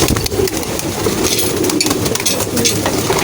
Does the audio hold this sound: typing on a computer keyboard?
no